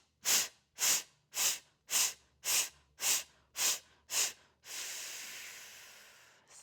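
Eight quick, rhythmic breath pulses in yoga practice, then one long, steady pursed-lip exhale hissing out, close and fairly loud.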